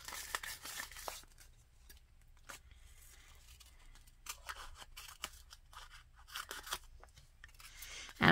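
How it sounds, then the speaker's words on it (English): Repeated crisp snips of scissors cutting paper, in irregular bursts with short pauses between, close and fairly quiet, ending with a louder clunk. "I'm going to use my scissors"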